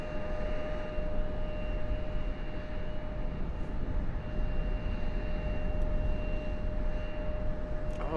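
Steady broadband aircraft engine roar from an airplane at Raleigh Durham International Airport, a continuous loud rumble with a faint whine holding throughout, no voices.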